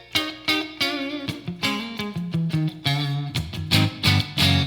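An Enya Inspire electric guitar played in the neck position with a little reverb, a clean melodic run of plucked single notes and chords, each attack ringing briefly into a soft tail, close and fairly loud with no talk.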